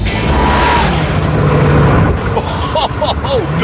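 A Ferrari F40 rumbles on the overrun as the throttle lifts, with sharp exhaust pops and bangs from unburnt fuel, heard over wind and road noise while someone talks.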